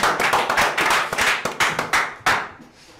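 Studio clapping on a radio show, a handful of people beating out a loose, uneven run of sharp hand claps close to the microphone, thinning and fading out after about two and a half seconds.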